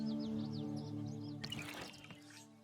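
Water drips and splashes as crops in a small garden are watered in the game Pine, light droplet plinks over a steady musical tone, then a brief gushing splash near the end.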